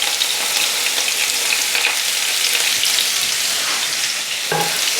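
Onions, peppers, tomatoes and green chilies fry in a pan over medium-high heat, giving a loud, steady close sizzle with occasional stirring scrapes throughout, no voices.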